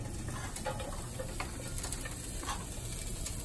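Onions frying in a thin layer of oil in a pan, giving a steady, close sizzle with soft crackles and light ticking pops, with no talking.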